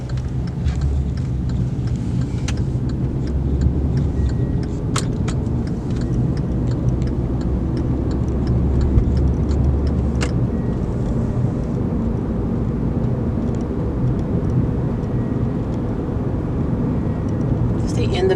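A car's engine and road noise hum steadily from inside the cabin during a Georgia DMV behind-the-wheel driving test, with faint ticking from the turn signal heard throughout.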